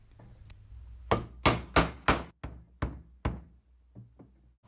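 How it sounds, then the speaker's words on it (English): A wooden tenon knocked into a mortise joint, about ten sharp, hollow wooden knocks in a quick irregular series, close and clear with quiet gaps between. "I try to fit the tenon into the mortise"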